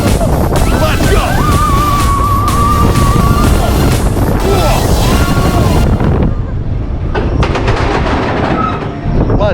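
Seven Dwarfs Mine Train roller coaster at Magic Kingdom, Walt Disney World, heard from the front seat as a loud, steady rumble and clatter of the train on its track, with riders whooping and voices mixed in throughout.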